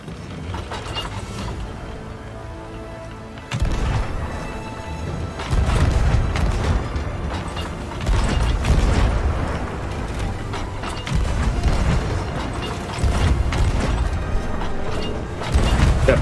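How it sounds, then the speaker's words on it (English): Ship cannons fire in a pirate video game, booming thuds recurring irregularly amid creaking, clanking mechanisms and a dense, busy background. "And we'll have right side cannons."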